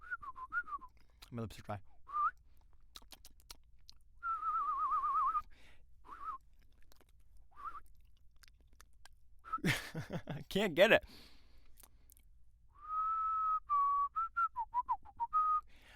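A person whistles short wavering tones with gaps and attempts between them, ending in a longer warbling run, with brief talk and some noisy bumps in between.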